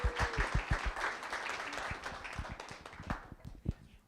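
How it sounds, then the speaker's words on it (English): An audience at a town council meeting gives a round of applause for two poetry contest winners, with sparse, fairly close individual claps over a soft background murmur that tapers off. "please let's give one last round of applause for these two winners"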